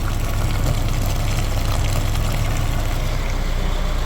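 Water rushes and sloshes steadily through the cooling system of a Daewoo Lanos engine during a flush, a dense, continuous hiss-and-gurgle with a low pump-like hum underneath, close and unbroken throughout.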